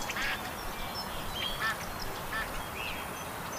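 Ducks quacking in the Duck Dynasty hunting video game, several faint, short calls scattered over a quiet, hissy outdoor ambience.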